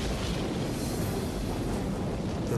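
A steamboat boiler explosion on the Mississippi River north of Memphis, heard as a dense, continuous roaring rumble that stays loud and broadband throughout without a distinct single blast.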